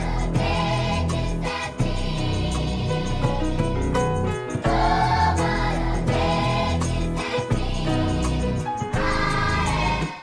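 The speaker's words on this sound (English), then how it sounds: "Now you can hear that our sample and our bass start to clash a little bit" Chopped sampled loop layered with a simple synth bass line tracing the root notes, built in Ableton, playing loud and continuous with a steady rhythmic pulse and brief dropouts between phrases.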